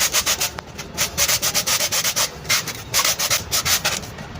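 Rhythmic, raspy strokes of sandpaper rubbing back and forth, close and steady, with brief pauses between bursts.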